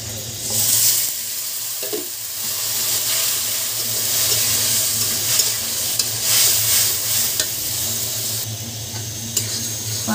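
Spice masala for a hilsa fish curry fries in a pan, a constant close sizzle with repeated scraping strokes of stirring and occasional clinks, and no talking.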